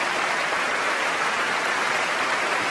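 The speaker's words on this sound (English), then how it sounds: "Getting a huge round of applause there for Brahms' Alto Rhapsody" Huge round of applause from the BBC Proms concert audience after Brahms' Alto Rhapsody, a dense, even hiss of many hands clapping, heard steady and full throughout without voices.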